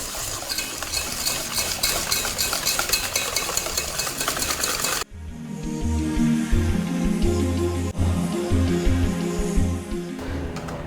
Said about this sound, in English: So you have to mix it until everything is smooth, otherwise you'll get lumps in your final product